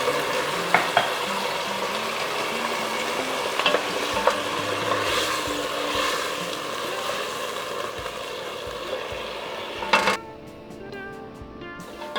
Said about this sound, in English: Bring that to a simmer.